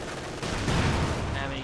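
Sidearm gunfire in the Company of Heroes 2 real-time strategy game, a dense burst of shots mixed with battle noise throughout the short clip.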